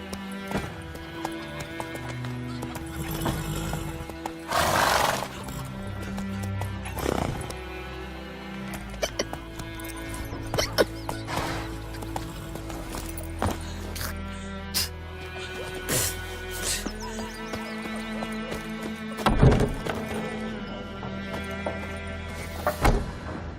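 Roach, the horse in The Witcher 3, moving under a layer of game music, with soft hoof clip-clops and a brief whinny that rise now and then, moderately close.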